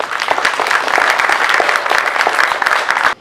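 An audience at an invention program kickoff applauds inventors with loud, dense, continuous clapping for about three seconds, ending abruptly.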